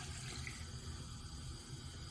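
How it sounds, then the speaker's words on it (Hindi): About two cups of water poured into a cooking pot of mutton with spinach, a steady filling rush that runs continuously without speech. "तो अभी हम तकरीबन 2 कप जो है वो पानी के ऐड करेंगे"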